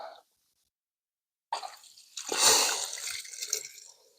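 Dirty liquid gushes and splashes out of a Ford oil bath air cleaner as it is tipped, a short drip at first, then silence, then a loud sustained pour that slowly tapers off.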